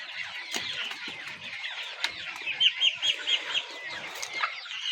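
Desi chickens, a mix of desi, golden and Misri birds at a poultry farm, make a dense chorus of clucks and chirps with a rhythmic run of calls in the middle, moderately near with no talk.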